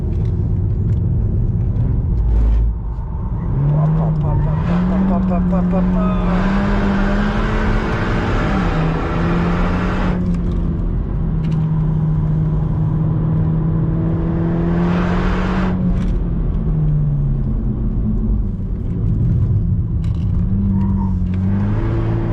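A Legend GT race car drives hard on a circuit, its engine droning loudly and steadily with pitch rising and falling through gear changes and acceleration, close and continuous with no talk.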